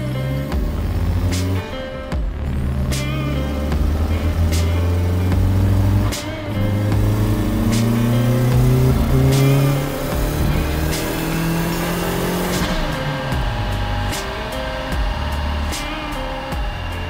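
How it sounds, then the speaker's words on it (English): A car engine revs hard on a chassis dyno, pitch climbing steadily through the gears in a long loud pull, then easing off near the end with the motor still running. "now that we've got that dyno run done"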